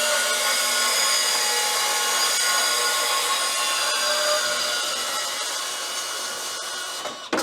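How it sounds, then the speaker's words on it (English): Milwaukee M12 dual trigger 100mm cordless bandsaw cuts through material with a steady high buzzing whine and hiss that holds for several seconds, close and loud, then stops with a short clunk at the end, and no talking is heard. "this is the new M12 dual trigger 100mm by 100mm cordless bandsaw."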